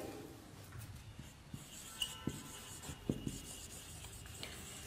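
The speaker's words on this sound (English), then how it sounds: "I am writing" Chalk or marker writing on a board in a live classroom lesson, a soft continuous rubbing scratch with a few small taps, faint and close, with no talk over it.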